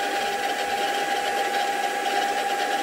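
A Sieg SX2.7 milling machine runs through a cut with a steady whine and a faint, even chatter under the tone, close and continuous with no voices.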